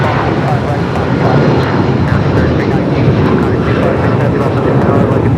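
Jet airliner on Flight 18 to Seoul at LAX roars loudly and continuously with a broad engine rush, while voices talk over it.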